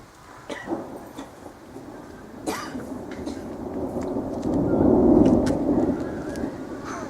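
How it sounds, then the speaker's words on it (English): Thunder rolls during a severe thunderstorm, a low rumble building to a louder peak midway and then fading, with a few sharp crackles early on and no speech. "Severe thunderstorm."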